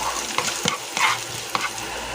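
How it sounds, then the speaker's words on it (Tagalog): Onion and garlic sautéing in hot oil for spicy coconut-milk anchovies, a steady close sizzle broken by a few scraping stirs of the spatula, with no talk. "Lagay tayo mantika. Igisa natin yung sibuyas, bawang"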